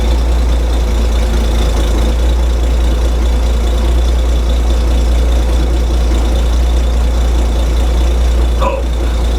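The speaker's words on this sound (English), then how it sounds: "engine starting to smooth out" A freshly started engine runs in a steady, loud, continuous drone with a deep low rumble and a faint high whine, settling into a smooth idle, with no talking.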